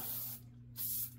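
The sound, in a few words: aerosol gun cleaner spray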